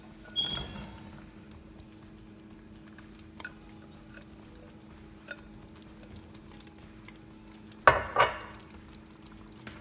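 Vegetables tipped into a pot of simmering vegetable korma, a short clatter and splash near the start, faint stirring knocks in the middle, then a louder sizzling splash toward the end over a quiet kitchen hum.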